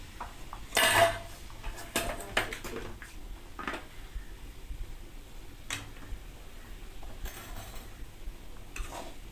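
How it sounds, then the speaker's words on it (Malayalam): Potatoes dropped into a pot and stirred in, a bright clatter at first, then scattered scrapes, knocks and ticks of a spoon against the metal, close by and without talk. "ഇപ്പം നമ്മൾ ആ ഉരുളൻകിഴങ്ങ് ഇതിനകത്തിട്ട് നമുക്ക് നല്ലപോലെ മിക്സ് ചെയ്ത് കൊടുക്കാം"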